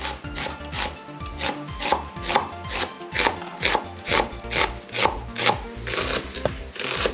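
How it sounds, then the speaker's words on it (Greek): A knife chops onion finely for homemade pelmeni, a steady run of close, sharp blade taps on a cutting board with a regular rhythm throughout. "Το κρεμμύδι θα το κόψουμε ψηλά"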